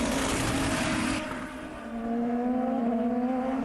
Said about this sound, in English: They're still trying to fire his engine. They got it running.